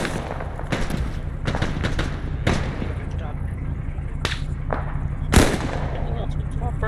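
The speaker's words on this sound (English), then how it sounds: "We have a BTR putting fire down." Scattered gunshots crack through an Arma 3 military firefight with a BTR armored vehicle firing, sharp broadband bursts spread over the seconds with one louder close shot near the end, under an ongoing bed of game noise and some radio talk.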